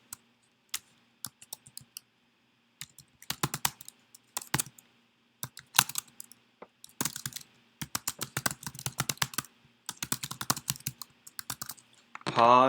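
Keys tapped on a computer keyboard, bursts of crisp, close clicks in irregular clusters separated by short pauses, growing busier and denser toward the end, with no talking.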